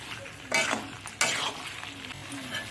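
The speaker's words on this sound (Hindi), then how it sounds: "इसको 20 मिनट तक एकदम पक्का आप चलाते रहिएगा, भूंजिएगा।" Vegetable curry with masala and a splash of water is stirred and fried in a pan in a home kitchen. Steady sizzling runs throughout, with two louder scraping stirs of a utensil against the pan and no speech.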